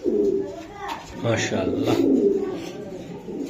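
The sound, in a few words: racing pigeons cooing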